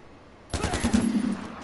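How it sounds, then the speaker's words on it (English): Rapid gunfire bursts in a PS4 video game crack out suddenly after a quiet start, loud and close, with a dense rattling run of shots continuing to the end. "Who is shooting?"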